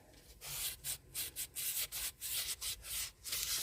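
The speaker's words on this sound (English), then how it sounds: "I'm going to have to sand all the edges before I put" Edges of a resin coaster sanded by hand in short, uneven strokes, a close run of soft scratchy rubs separated by brief pauses.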